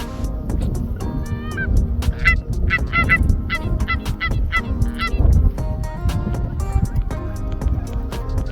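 Canada geese honk repeatedly as they fly over during a hunt in eastern Montana, a scattered chorus of sharp calls at moderate distance over a low rumbling background.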